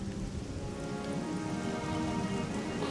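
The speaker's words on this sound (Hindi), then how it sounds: "बारिश हो रही है।" Steady rain pours down during a moderate storm at sea, drumming over a ship in a dense, continuous hiss that stays loud and even throughout, with no voices.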